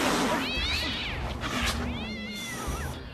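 A cat meows several times in close succession, with rising and falling wavering cries, some stretched into a drawn-out caterwaul, loud and near over a low background hum.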